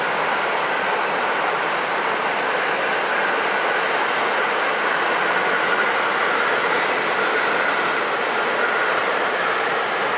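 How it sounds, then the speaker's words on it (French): A steady, broad rumbling roar of a passing train beside the Marne riverbank, constant and moderately loud throughout with no voices. "c'est le train, pas la tondeuse"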